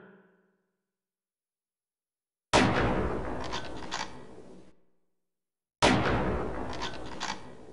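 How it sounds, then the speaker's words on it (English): Two loud, sharp gunshots ring out about three seconds apart at a shooting range with moving targets in Half-Life: Opposing Force boot camp, each with a sudden crack and a decaying reverberant tail, separated by silence. "Now let's see if you can hit the moving targets at long range."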